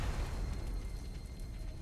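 Artillery strike explosions in the wargame Panzer Corps 2: a low, rumbling boom that stays steady and dense for the whole short stretch, with no clear separate hits and no voices.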